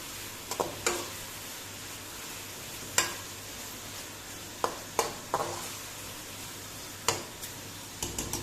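Onions and mutton frying together in a pan for Uzbek pulao, with a low steady sizzle broken by sharp, scattered scrapes and taps of stirring at irregular intervals.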